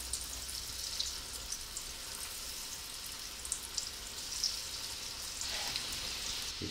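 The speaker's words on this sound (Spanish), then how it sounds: "El aceite tiene que estar caliente, bien caliente, y solo soltará a freírlas." Mushroom croquettes frying in plenty of very hot oil, giving a steady, close, even sizzle with small pops and crackles throughout, no voices.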